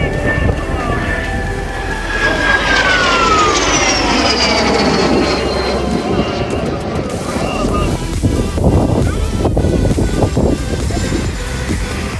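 A Sakura Aviation airplane flies past at an air show, its engine tone sweeping downward as it passes. Heavy wind buffets the microphone, and voices talk nearby.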